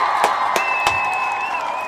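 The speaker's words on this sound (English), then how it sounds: "I want to give all the Kuumba babies a round of applause" Crowd applause and cheering ringing out for the Kuumba babies at a family event, steady clapping with a few whoops, fairly close and filling the whole moment.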